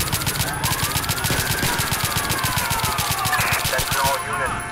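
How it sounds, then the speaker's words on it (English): Rapid gunfire in the LCPD FR police video game, shots aimed at a fleeing car's tires, a dense run of sharp bursts over a wailing police siren, loud and close, stopping near the end. "we're gonna try to shoot his tires"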